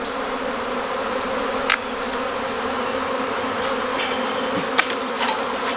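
A steady, dense buzzing of many bees fills the air at close range, with a few brief sharper ticks and knocks along the way.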